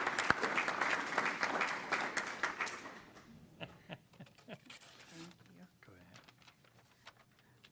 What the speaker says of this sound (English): How about a big round of applause for these kids?